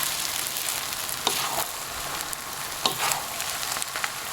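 Vegan noodles are stir-fried and tossed in a pan, giving a dense, steady sizzle with a few sharper scraping and clattering accents from the stirring, close and continuous, with no talking.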